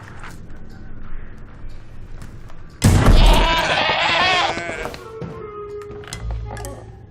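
A goat bleats in a trailer for the video game Goat Simulator 3, a loud strained cry about midway with clattering and other game sounds around it.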